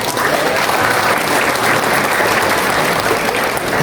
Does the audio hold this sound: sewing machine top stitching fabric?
no